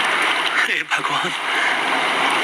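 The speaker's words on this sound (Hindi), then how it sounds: "समुद्री लहरें इतनी ऊपर उठकर हमारी तरफ आ रही हैं।" Storm-driven sea waves crash and surge near the shore in a continuous, loud roar of rushing water. A voice speaks briefly over the churning noise.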